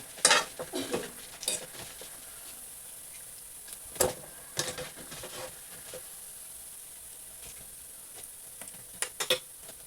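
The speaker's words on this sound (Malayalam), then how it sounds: "നമുക്കിനി ഇത് എണ്ണയിൽ നിന്ന് കോരി എടുക്കാം" Onion vadas frying in hot oil, with a steady sizzle broken by scattered scraping, stirring and clinking as the fritters are lifted out with a slotted ladle; no voices.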